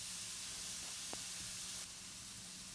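Pieces of meat searing in batches in an uncrowded pan for chile colorado, a steady broadband sizzle with a brief flip clatter, close and fairly quiet, no talking.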